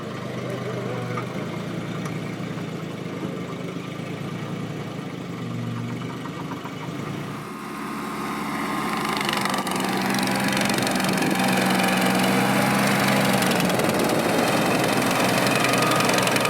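A stump grinder engine works a large willow stump, a loud continuous engine drone that steps up in pitch and intensity partway through as the grinding bites in harder, heard close and without talking.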